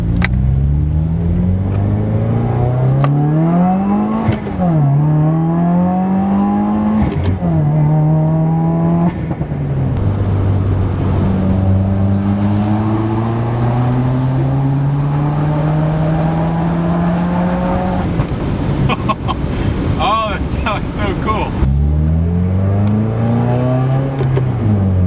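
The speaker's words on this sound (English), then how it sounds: "obviously the car is a lot louder without the catted downpipe." A Pro-Tuned 2017 Subaru WRX without its catted downpipe accelerates hard, its loud engine note climbing repeatedly through several gear changes, with brief dips between pulls, close and alone.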